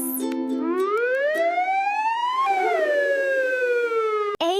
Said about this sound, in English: A is for ambulance, ambulance.